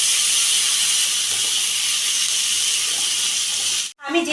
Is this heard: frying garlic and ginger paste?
yes